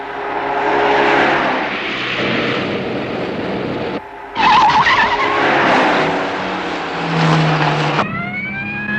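Car pursuit of a red convertible on a highway: loud engine roar and screeching tires with skidding, a siren-like rising tone near the end, continuous and close.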